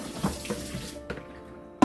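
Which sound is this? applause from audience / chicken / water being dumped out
water being dumped out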